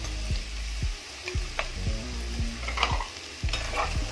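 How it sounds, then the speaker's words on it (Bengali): Chopped capsicum stir-fried in a pan for restaurant-style mixed fried rice: a steady close sizzle broken by repeated low scraping thuds of a spatula, roughly one every half second, with occasional crackling bursts. "আরও কিছুক্ষণ নাড়াচাড়া করে নেব"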